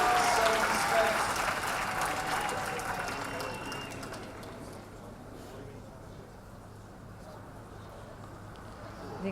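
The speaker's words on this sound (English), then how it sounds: "she receives a very rapturous ovation from this Donnybrook crowd" Applause from the rugby crowd at Donnybrook during a women's Ireland v Scotland match, strong at first and then slowly fading to a low, distant murmur of clapping.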